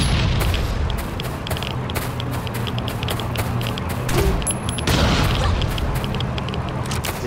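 Grenade launcher rounds go off in Last Island of Survival, a dense string of sharp blasts and pops over a continuous low rumble, with a heavier burst near the end.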